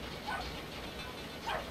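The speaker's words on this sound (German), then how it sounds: "Hat Angst vom kleinen Hund." Two short yips from a small dog in Brothers: A Tale of Two Sons, one early and one near the end, over a steady game ambience.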